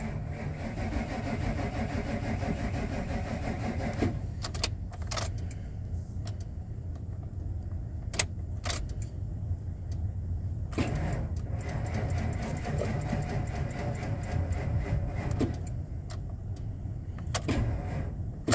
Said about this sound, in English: Yeah, I knew when it was cranking slow like that, it wasn't going to go.